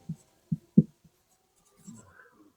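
Pen or marker strokes writing out a maths derivation on a board, a few short taps and scratches at a steady pace, close and fairly quiet, with brief gaps between strokes.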